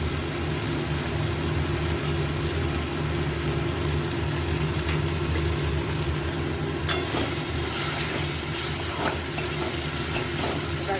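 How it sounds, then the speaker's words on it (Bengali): Tomatoes with salt fry in a pan as spices cook, a steady close sizzle running throughout with occasional scrapes and clinks of a spatula near the end. "এবার ভাজা ভাজা হোক ভালোভাবে।"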